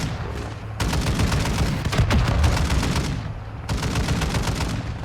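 Rapid gunfire in a video game rattles out in long, dense bursts with a brief pause between, loud and close, forming a continuous barrage.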